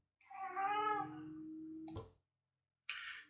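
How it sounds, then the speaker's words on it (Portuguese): A house cat shut inside a room gives a long, close, drawn-out meow, followed by a sharp click and then a brief second cry after a pause. "Tive que parar o vídeo aí para botar o gato para fora, que ele ficou incomodado de ficar preso aqui"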